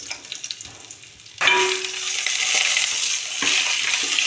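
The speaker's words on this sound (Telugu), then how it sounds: "పాన్ తీసుకొని జీలకర్ర ఎండుమిర్చి అల్లం వెల్లుల్లిపాయ వేసుకున్నా" Cumin, dried red chilies, ginger and garlic hitting a hot pan, a quiet start then a sudden loud sizzle that keeps frying steadily with a few clinks of a spoon.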